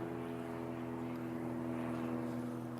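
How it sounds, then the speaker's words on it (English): Airplanes pass overhead as a steady, continuous engine drone with a strong low hum and a broad roar, even and unbroken for the whole stretch, with no talking. "Okay, we got a few planes going over."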